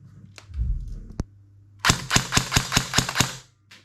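A T238 airsoft gun fitted with a brushless motor fires in semi-auto: a few scattered clicks, then a quick run of about seven sharp, evenly spaced shots, loud and close.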